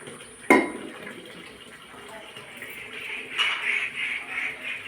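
Water runs from a tap into a bucket and pot in a home kitchen, a sharp knock at the start followed by steady moderate splashing and filling.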